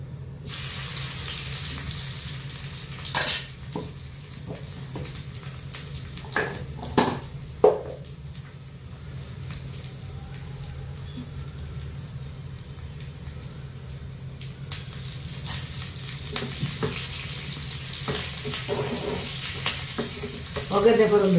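Spices tempering in hot oil for a Mangalorean-style bendekai (okra) rasa, a soft ongoing sizzle with a few sharp clatters and stirring knocks of a pan, continuing steadily to the end.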